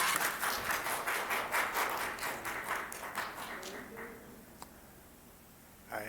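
Audience applause fills a city council meeting chamber, dense and steady at first, then thinning out to scattered claps before fading to near quiet.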